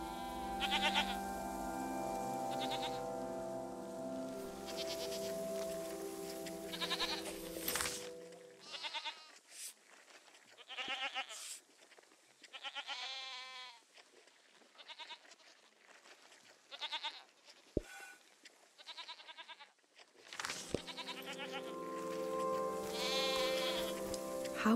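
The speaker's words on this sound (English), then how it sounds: "I'm petting this goat for you." A goat being petted on a fruit farm in the video game SEASON: A letter to the future bleats repeatedly at close range. The calls come in scattered bursts over layered music and ambience, with quieter gaps between them.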